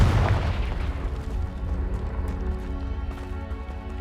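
A Confringo fire spell bursts in Hogwarts Legacy, a loud booming blast at the start that rolls into a sustained rumbling roar under layered game effects.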